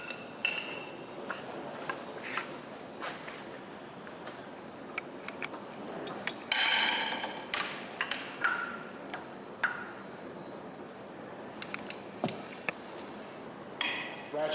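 A Williams 3/8-inch drive ratchet with a pipe slipped over its handle for leverage works loose an engine head bolt. Sharp metallic ticks and clinks come close and steady, a louder grinding burst lands midway, then scattered ratchet clicks follow, with no talking.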